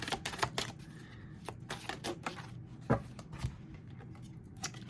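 A tarot chakra card is pulled from a deck, with a run of crisp clicks, taps and card flicks, close and fairly quiet, without any voice.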